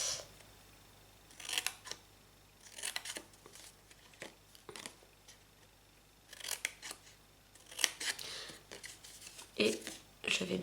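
Scissors cut and bevel cardboard for an adhesive display box, giving repeated crisp snipping and slicing bursts in irregular clusters, close and moderately loud, with a voice speaking in between.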